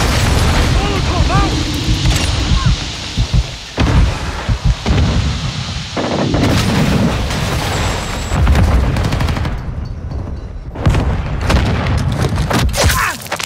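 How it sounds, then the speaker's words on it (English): Blasts and heavy gunfire from a Call of Duty Modern Warfare 2 team deathmatch, including flash grenade explosions, dense and loud throughout with booming hits and rapid shots, with game voice callouts mixed in. "Throwing flash grenades"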